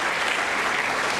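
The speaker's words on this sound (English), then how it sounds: "Why don't you give a clap for her?" Students at a college induction programme morning session break into a brief, full round of applause for a fellow student, dense and steady without talk.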